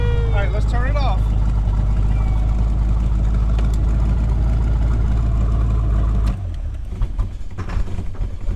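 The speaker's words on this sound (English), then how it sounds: "So let me go ahead and shut the car off and see if that actually works." A car engine fitted with a rebuilt Holley 4779 carburetor idles with a loud, steady low rumble, then is switched off and keeps dieseling, running on unevenly in rough, weaker pulses; people talk over the running engine.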